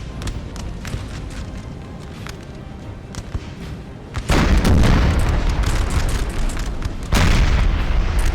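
Artillery fire in the video game Napoleon: Total War, with a steady battle din of scattered crackling shots that suddenly gives way to a loud, booming cannon blast, followed by a second heavy boom near the end.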